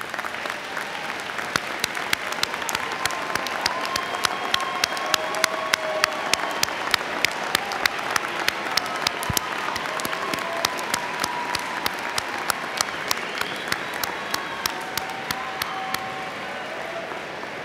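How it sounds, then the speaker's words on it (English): Audience applause at a graduate commencement ceremony in a large hall: sustained, dense clapping from a big crowd of faculty, staff and graduates, steady and loud throughout with no talking. "the faculty, the staff, and the graduates may applaud you in this very important day"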